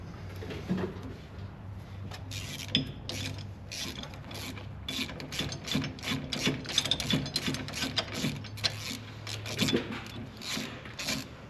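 Ratchet wrench working brake nuts loose on a 1966 Ford Mustang during a rear disc brake conversion, a steady run of quick, close metallic clicks and rasping strokes throughout with no talk.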